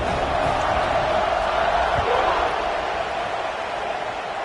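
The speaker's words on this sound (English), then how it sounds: "They're set to kick it off, and this crowd now ready to get behind them." Football stadium crowd roaring at a kickoff, a dense, sustained wash of cheering from a large audience, loud and continuous throughout.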